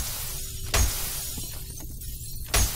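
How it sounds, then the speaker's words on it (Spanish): Two sharp bursts of breaking glass in the shooter game F.E.A.R., loud and close, spaced about two seconds apart over a steady background hum. "eso lo rompo porque me gusta romper cristales"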